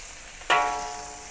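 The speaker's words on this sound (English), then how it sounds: "Then flip over to fry the other side" Shrimp hitting hot oil in a wok bursts into a sudden loud sizzle that then settles into a steady frying hiss, close and alone.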